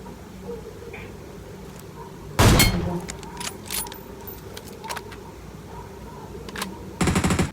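Gunfire in the mobile battle royale game PUBG Mobile, two short loud automatic bursts separated by scattered faint shots and clicks, over a low background hum with players talking quietly.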